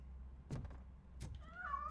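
Cat meowing in the video game Robocop: Rogue City, a faint short meow followed by a couple of soft clicks over low background hum, with a tonal whine near the end.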